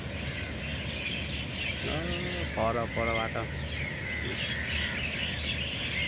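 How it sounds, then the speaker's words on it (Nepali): Birds call and chatter at dusk as more arrive to roost, a steady chorus of chirps with clearer nearby calls standing out, while someone talks over them. "चराहरूको आगमन चाहिँ अझ तीव्र छ ल"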